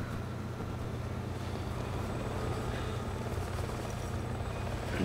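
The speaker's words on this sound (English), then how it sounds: "And see some choppers." Helicopter rotor noise in the Resident Evil 6 video game, a steady low thrumming drone that holds at an even level throughout, with no talking.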